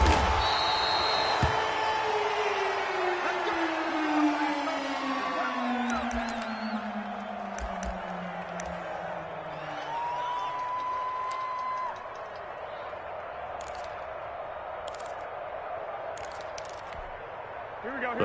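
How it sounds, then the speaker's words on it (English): Roaring stadium crowd at a Seahawks versus 49ers NFL football game, a dense, loud, continuous wall of noise that holds steady from start to finish, with a commentator talking over it. "Combined with this crowd noise, makes it very difficult to run offense."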